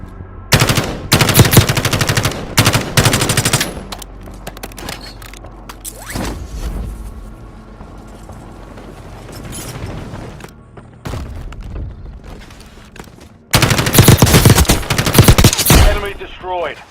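Kilo rifle gunfire in Call of Duty Warzone Mobile, loud rapid automatic bursts at the start and again near the end, with quieter game sounds and a voice talking in the lull between them.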